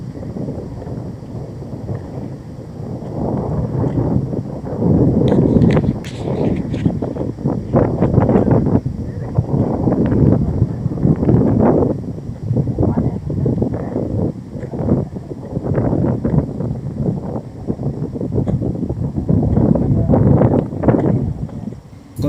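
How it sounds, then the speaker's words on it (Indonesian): Strong, continuous wind gusts buffet the microphone on a steep mountain trail in Indonesia, a loud rumbling roar that swells and dips throughout with no clear talk. "Kondisi trek dari pos 3 menuju Puncak Bayangan semakin terjal, disertai hembusan angin yang lumayan agak kencang."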